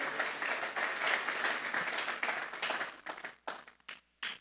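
A church congregation claps as an offering to God. The applause is dense and sustained, then thins into a few scattered, sharper bursts of clapping near the end. It is fairly quiet and heard without speech.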